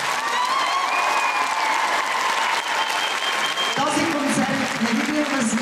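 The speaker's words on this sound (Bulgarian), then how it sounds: "вашите аплодисменти за тези прекрасни изпълнители" An audience applauds steadily for performers at an amateur arts celebration on 1 March, sustained clapping from a large crowd, with a voice speaking over it near the end.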